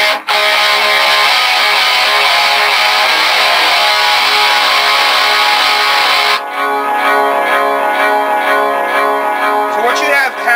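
Loud, sustained distorted electric guitar with echoing delay repeats smearing together into a dense, muddy wash of sound, no talking.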